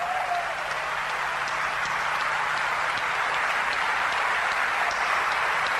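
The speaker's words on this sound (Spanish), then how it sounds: "Este aplauso, tu aplauso, es para ellos." A church congregation applauds during a sermon, a steady, dense wash of clapping that holds at an even level throughout, with no voices standing out.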